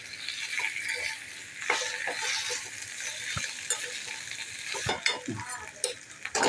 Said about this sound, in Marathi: ही मगाशी केलेली भेंडी होती ना फ्राय केलेली ती आपण टाकून घेऊया आणि हे परतून घेऊया चांगलं